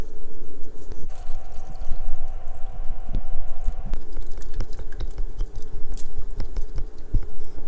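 Cold tap water pours into a pot of cooled pig tongues for a soy sauce braise, a steady running fill with splashing and sloshing that shifts in tone partway through, close and fairly loud.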